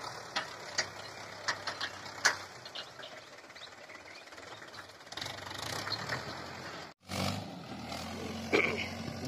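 A John Deere 5050E tractor fitted with a front dozer levels field bunds, its engine droning steadily with clanking and ratcheting mechanical sounds on top and a brief drop partway through.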